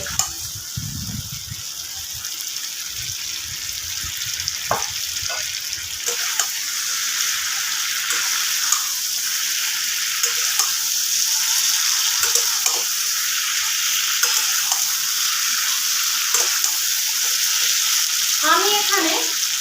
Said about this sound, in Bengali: খুব ভালোভাবে আলুগুলো আমি মিশিয়ে নেব মশলার সাথে